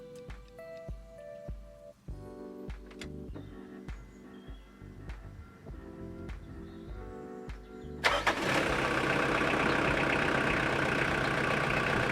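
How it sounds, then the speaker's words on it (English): A 1996 Mitsubishi Pajero 2.8 diesel with a suspected head gasket fault goes from quieter mechanical clatter to a loud, sudden start partway through, then settles into a steady, dense diesel idle close by. "Right, I'm going to start the motor."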